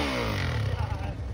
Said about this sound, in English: I'm revving my bike, trying to go racing.